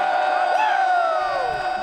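Large stadium crowd at a night Ohio State football game, a steady, loud wash of cheering and shouting voices with whoops rising and falling across the whole span.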